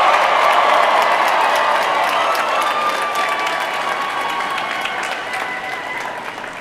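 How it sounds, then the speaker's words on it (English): A large graduation crowd cheers and applauds for the School of Continuing and Professional Studies. The sound is a loud, sustained wash of clapping and cheering that fades slowly, with no talk over it. "I'd like everyone to cheer for this next school, the School of Continuing and Professional Studies."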